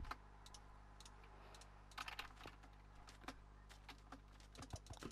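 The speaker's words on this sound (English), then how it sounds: "So if you can hear my mouse and keyboard, they're very loud." Quiet, irregular clicking and tapping of computer keys and a mouse while gaming, with a few louder bursts of rapid keystrokes over a low steady hum.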